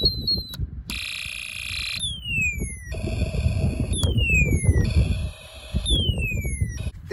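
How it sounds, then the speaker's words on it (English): A Snap Circuits Extreme SC-750 electronic kit produces an alien-spaceship effect: loud, shrill, warbling alarm-like tones alternating with repeated falling electronic sweeps, over a rumbling noisy background. "That might sound like an alien spaceship or aliens."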